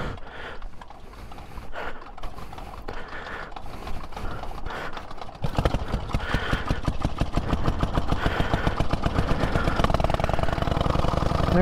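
Vintage pre-1919 rally car's two-cylinder engine starting on a downhill roll and settling into a steady, loud, rapid chugging beat close by, preceded by quieter mechanical rattling.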